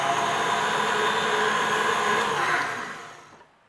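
Electric hand mixer whirring steadily while beating egg whites with sugar for a fluffy cocoa marble loaf, a loud continuous motor drone that holds for about two and a half seconds and then fades away.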